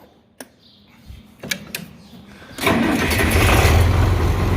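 A John Deere 4020 tractor engine cranks after a few clicks and clunks, then catches and settles into a loud, steady rumbling idle close by.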